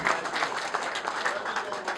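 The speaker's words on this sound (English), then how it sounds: "You are clapping for your governor." An audience at a youth town hall meeting in Delta State claps steadily, a dense patter of many hands with a few voices in the crowd.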